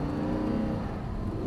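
An Audi R8 on a race track revs steadily through an upshift, its engine note loud and continuous with a brief dip partway through.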